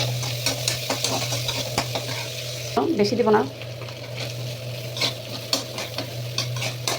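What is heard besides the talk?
onion, garlic and green chili frying in oil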